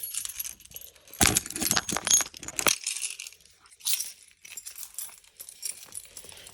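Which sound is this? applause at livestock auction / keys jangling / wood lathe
keys jangling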